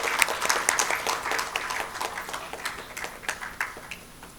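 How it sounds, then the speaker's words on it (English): An audience applauds an award winner at a prize-giving ceremony, a crowd clapping with crisp individual claps standing out, strong at first and gradually thinning toward the end. "Please give them a huge round of applause."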